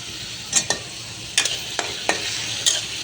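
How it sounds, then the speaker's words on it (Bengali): Dried bamboo-leaf shutki fish frying in hot oil, a steady close sizzle broken by several sharp scraping stirs of a spatula against the pan, with no talking. "এটা শুটকিটাকে তেলে একটু ভাজতে হবে"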